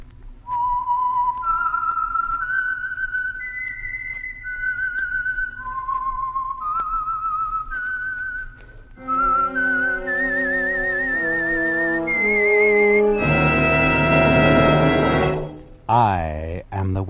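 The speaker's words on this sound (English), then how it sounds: "the signal to listen for is this whistle that identifies the signal oil program" A clear human whistle carries a slow, eerie melody of held notes, then orchestral music swells in and ends on a sharp sweeping accent.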